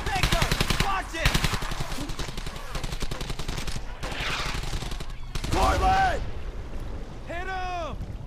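Sustained machine gun bursts rattle loudly in the World War II shooter Brothers in Arms: Hell's Highway, stopping and starting amid battlefield noise, with shouted voices breaking in near the end.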